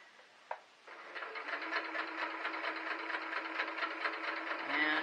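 A sewing machine stitches pieced lime quilting fabric for a crumb quilt block, a steady close mechanical whir with rapid rhythmic needle pulses that starts after a brief knock and runs continuously for several seconds without talk.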